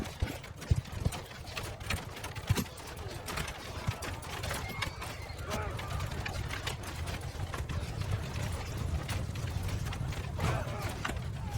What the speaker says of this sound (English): Our archers get charged by the enemy cavalry but with little effect